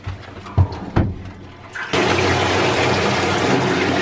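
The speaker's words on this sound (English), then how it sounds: "Let's first fill the water tank." Water gushes steadily from a plastic bag into a water tank at a motorcycle campsite, a continuous close, fairly loud rushing pour that starts abruptly after a couple of soft thumps and runs unbroken to the end.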